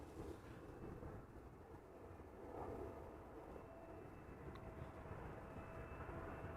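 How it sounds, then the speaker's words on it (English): A Boeing 777-300ER airliner arriving at Amsterdam Schiphol from Toronto gives a steady, low, rumbling roar that holds throughout at moderate distance. "arriving from Toronto, Canada. 777-300ER."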